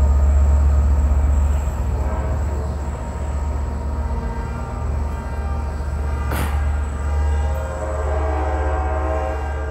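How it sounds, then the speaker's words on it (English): An Amtrak Capital Corridor train hauled by a 2006 F59PHI diesel locomotive departs Oakland's Jack London Square station, its loud, steady engine drone and rail rumble dominating, with a brief sharp higher sound midway. "these trains are setting up car alarms with their loud engines"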